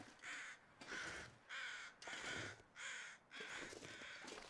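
In-game crows give six harsh caws in a steady series, each call loud and close, separated by brief quiet gaps.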